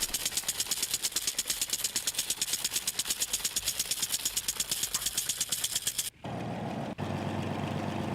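An ATV engine idles in the survival video game Last Day on Earth with a fast, steady, chugging pulse. It cuts to a smoother, flatter hum for the last couple of seconds, and no one speaks.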